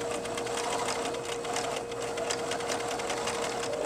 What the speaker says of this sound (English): I'm going to sew forwards, then I'm going to sew backwards, then I'm going to sew forwards again